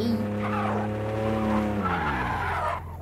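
A car skids in a crash-test driving game, its tires letting out a long loud tonal squeal that bends in pitch before cutting off abruptly.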